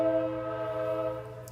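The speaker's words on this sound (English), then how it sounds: "The train." A train sounds a sustained, steady horn chord, loud and close, holding evenly for about a second and a half before easing slightly.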